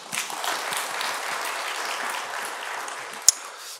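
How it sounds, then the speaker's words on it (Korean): A church congregation applauds in a short burst of scattered clapping, moderately distant and fairly quiet, with one sharp louder clap near the end. "박수 한번 보내드릴까요?"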